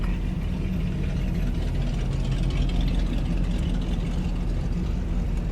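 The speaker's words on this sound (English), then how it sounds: "Truck." A truck engine rumbles steadily and close by during a fall mountain trip, a dense low-pitched drone that holds at an even level throughout with no voices over it.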